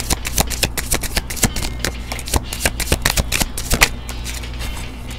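Tarot cards are shuffled close up in quick, crisp riffling bursts that flutter and snap steadily for several seconds, loud and alone over a low background hum.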